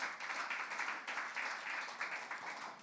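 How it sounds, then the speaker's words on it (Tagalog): A church congregation applauds steadily, the clapping dense and sustained throughout with slight rhythmic swells, fairly close and filling the space. "Sige po, malakas sa palakpak para sa Kanya."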